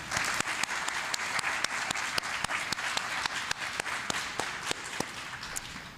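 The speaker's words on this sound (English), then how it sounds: "Let's give another round of applause to all our participants across Galena Park ISD." An audience claps steadily at a school district poetry and prose event, a dense, continuous wash of many hands with sharp individual claps standing out throughout, fairly close and sustained at even loudness.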